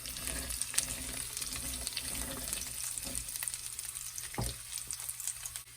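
Large salted peanuts fry in a pan with a steady, close sizzle and crackle, with no one talking over it.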